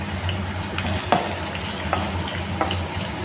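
Sliced onions and salt fry in oil for pepper chicken, a steady close sizzle with occasional scraping stirs from a spoon in the pan and no talking.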